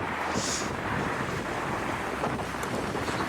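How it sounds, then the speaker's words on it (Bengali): Wind blowing outdoors near Akshardham Temple, a constant rushing gust buffeting the microphone with low rumble, steady throughout and no voices. "হাওয়াও দিচ্ছে"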